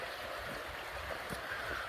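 Water flowing along a creek on a mountain trail hike, a steady broadband rushing and burbling that fills the whole clip at moderate level, with no talk.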